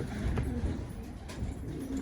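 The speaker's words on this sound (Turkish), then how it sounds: "yukarıda kuş var ha çatıda kuş var" A pigeon coos on a roof above a pigeon café in Gaziantep, soft low repeated calls over a busy background hum with faint chirps.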